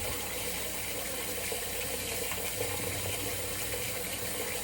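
Water runs steadily from a tap during a wet shave, a constant close hiss and splash with no talking.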